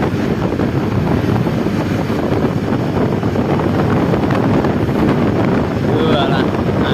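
Strong wind gusts roar continuously into the microphone in Banaran, Gunungkidul, loud, dense buffeting with no letup.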